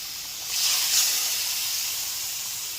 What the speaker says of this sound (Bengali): এরপর এর মধ্যে দিয়ে দিচ্ছি এক বাটি পরিমাণ দুধ